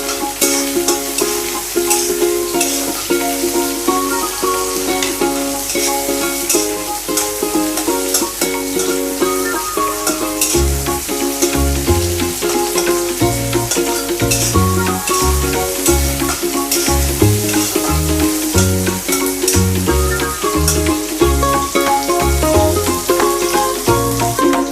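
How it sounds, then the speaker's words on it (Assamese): Tomatoes fry in hot oil in a pan over medium-high heat, giving a steady hiss and sizzle that runs continuously beneath music. "এতিয়া মই বিলাহীখিনি প্ৰথমতে ফ্ৰাই কৰি ল'ম"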